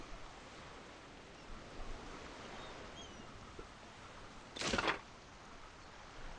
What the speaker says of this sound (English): Nice relaxing water moving.